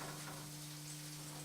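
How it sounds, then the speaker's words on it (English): American cheese sizzles in a frying pan, a quiet, steady crackling fry with a low electrical hum underneath and no talking. "let it sizzle for a few seconds"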